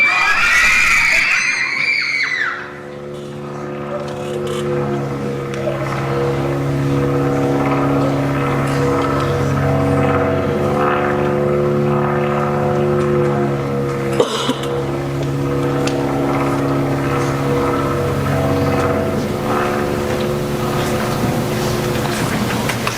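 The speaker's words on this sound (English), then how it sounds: "It sounds like airplanes." Droning engines of several Japanese airplanes passing overhead, a sustained layered hum that fills the scene, with shouting voices briefly at the start.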